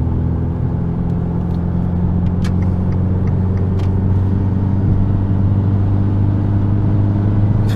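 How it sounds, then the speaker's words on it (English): A car at full throttle in fifth gear in sport mode gives a loud, steady engine drone and road rumble from inside the cabin, with no talking. "I'm gonna floor it right now. Staying in fifth gear, no downshift."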